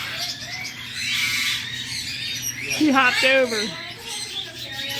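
Pet birds in a bird store squawking and chirping, with a sharp squawk near the middle, heard under someone talking close by.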